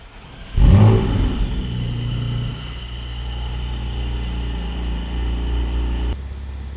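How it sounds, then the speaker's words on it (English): A 2024 Porsche Boxster GTS 4.0 flat-six engine starts with a loud deep bark and rev flare, then settles into a steady rumbling idle, heard close and alone. "We're gonna see what, or hear what this flat six sounds like."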